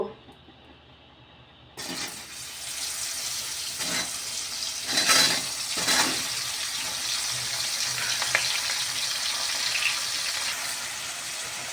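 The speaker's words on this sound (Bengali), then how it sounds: "মাশরুমটা এবার হালকা করে আমি ভেজে নিয়েছি" Mushrooms frying in hot oil, a sudden hiss as they hit the pan followed by a steady, close sizzle with a few louder crackling bursts.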